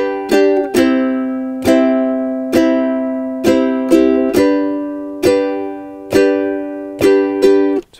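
Ukulele strummed alone in a steady rhythm, moving between a bar of C and a bar of G: bright, ringing chord strokes about once per second, each decaying before the next, loud and close.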